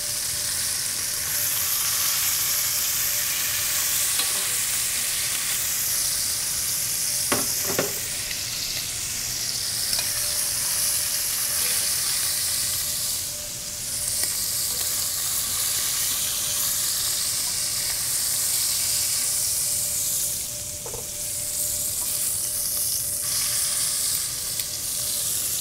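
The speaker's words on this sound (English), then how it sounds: "Creating a depth of flavor by browning off your meats." Short ribs browning in a hot pan give a steady, loud sizzle and frying hiss with no break, plus a few brief clinks and scrapes of stirring.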